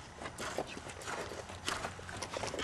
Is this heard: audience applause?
no